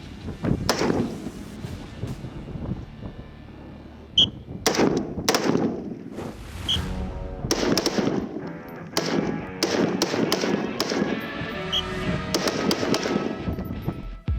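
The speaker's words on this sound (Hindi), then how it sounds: "रात को चीरती राइफलों और मशीन गनों की कंट्रोल्ड फायरिंग" Rifle and machine-gun fire on a night range among dark hills, sharp reports and rapid bursts spaced across the stretch, some loud and close, others more distant, with echoing tails between shots.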